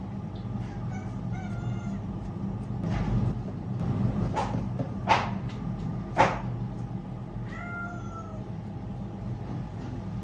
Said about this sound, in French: j'ai mon chat qui s'invite.